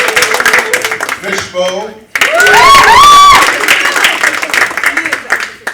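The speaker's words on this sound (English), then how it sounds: "Round of applause to the judges." An audience at a high school poetry slam breaks into loud applause mixed with cheers and whoops, rising in a burst midway and trailing off, with voices speaking over the start.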